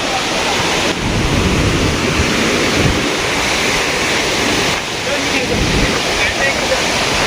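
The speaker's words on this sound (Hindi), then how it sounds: "ये झरना जितना ब्यूटीफुल है उतना ही ठंडा भी है" A cold mountain waterfall at Madhyamaheshwar roars loud and close, with heavy spray. The broad, continuous rush is buffeted by gusts of wind on the microphone.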